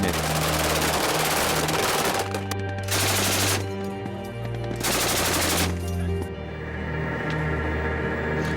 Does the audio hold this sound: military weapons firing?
yes